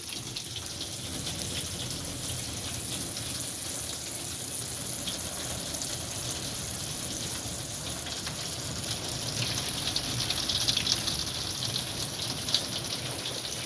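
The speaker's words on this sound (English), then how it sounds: "Get the water going into the gutter." Water from a garden hose runs into a roof gutter, producing a continuous, even splashing hiss that holds steady throughout and swells slightly toward the end.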